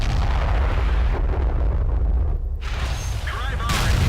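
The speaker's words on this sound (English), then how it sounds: "Fucking artillery." An artillery shell explosion in World of Tanks booms loudly with a deep rumble. Dense, heavy battle noise and engine roar fill the stretch, and a voice speaks over it.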